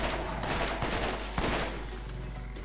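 Sustained gunfire from a weapon in the video game Borderlands, a dense continuous barrage of rapid shots with one sharper burst midway, loud and unbroken throughout.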